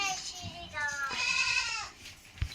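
Goat kids under a month old bleat at close range on a goat farm, a couple of wavering high cries in quick succession, with faint voices nearby.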